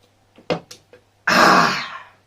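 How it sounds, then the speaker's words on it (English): A few short breathy sounds, then one loud, rasping throat clearing up close, trailing off into a breathy exhale. "I drink my Coke and clear my throat."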